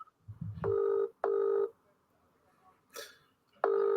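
A telephone line tone sounds during a live cold call: three steady electronic ringback tones, each around half a second, separated by short gaps, with a brief rustle between the second and third. There is faint noise beforehand.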